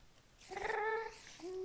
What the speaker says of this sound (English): Oh, that's a cave spider.